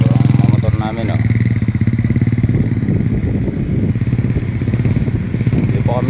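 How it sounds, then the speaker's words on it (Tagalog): Motorcycle engines idle and rumble steadily at close range in a rural Philippine rice-hauling setting, with a clattering mechanical texture throughout and talk running over them. "ito po ang mga motor namin, oh"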